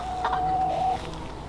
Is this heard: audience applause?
no